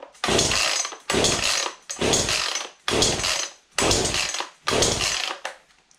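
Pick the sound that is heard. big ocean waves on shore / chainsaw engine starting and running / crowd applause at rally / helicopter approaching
chainsaw engine starting and running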